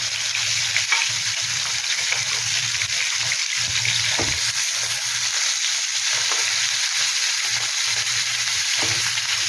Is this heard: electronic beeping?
no